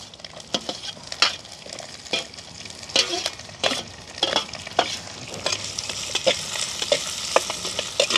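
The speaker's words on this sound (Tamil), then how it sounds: "இப்போ கடுகும் வெந்தயம் கொஞ்சம் பெருஞ்சீரகம் சேர்த்துக்கொள்ளுவோம்." Hot oil sizzles steadily as mustard seeds, fenugreek and fennel fry with onion, green chilli and curry leaves, with sharp little pops and crackles and a spoon stirring through the pan up close.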